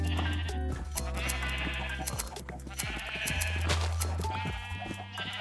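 Sheep on a Minecraft wool farm bleat again and again in short, clear calls from close by, set over a steady low game hum with no speech.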